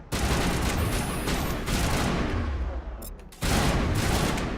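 Shotgun blasts from the video game Mass Effect 1 fill the clip, loud and dense, with a brief drop in the noise near the end before the firing resumes.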